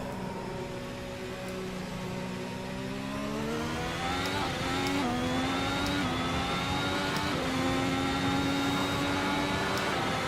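A 2018 Halo race car driven in Assetto Corsa, its engine droning steadily with rising and falling harmonic tones as it accelerates and shifts gears, with sharp shift blips around the middle of the lap.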